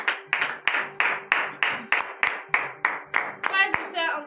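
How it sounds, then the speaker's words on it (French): Members of a congregation at a morning prayer service in Benin clap in a slow, steady rhythm, about a dozen sharp, evenly spaced claps with a faint voice underneath and a brief burst of vocalising near the end. "Donnez de vives acclamations à cette parole"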